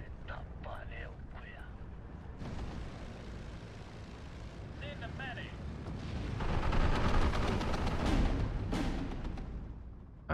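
In the Steel Division 2 war game, aircraft strafe ground targets, with droning engines and bursts of machine-gun fire that swell into a dense, louder barrage midway before tapering, all fairly faint in the mix, and a voice talking over it.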